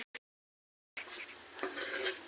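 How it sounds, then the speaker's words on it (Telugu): Bitter gourd masala curry scooped from a pan into a serving bowl: two faint clinks, a short silence, then steady close scraping and clattering of utensil against cookware. "మన కాకరకాయ కర్రీని ఒక బౌల్లోకి సర్వ్ చేసుకుందాం"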